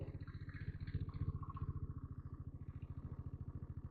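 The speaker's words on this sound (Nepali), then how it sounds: "स्टार्ट हुन्छ बटार्सी घ्यार्र गरिहाल्छ, अलिकति तान्छ घ्यार्र गर्छ यार" A faulty scooter engine idles and sputters with a rapid, uneven low thumping pulse, close by and steady, with a faint higher whine briefly rising over it and no talk.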